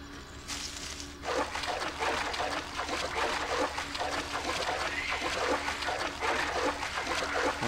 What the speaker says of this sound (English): the water is very loud.